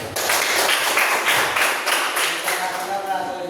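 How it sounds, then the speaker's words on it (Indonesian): A class of students applauds a student group after its presentation, a steady burst of clapping from many hands filling the room for a few seconds. "Sebelumnya ini aplaus dulu untuk kelompok 3."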